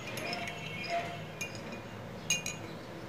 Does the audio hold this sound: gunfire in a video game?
no